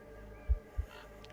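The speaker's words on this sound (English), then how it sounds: "Whose heartbeat do we hear?" Two low, soft thumps of a heartbeat sound effect in a tabletop role-playing game session, spaced about a third of a second apart over a faint steady hum.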